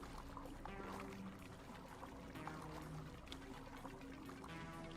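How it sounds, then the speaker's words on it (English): Water rushing through pipes in the Dungeons and Dragons Online video game, a steady, faint pouring wash that runs unbroken throughout with soft tonal game sounds layered underneath, no talking. "The valve triggers a rush of water through the pipes, followed by the sound of a door opening."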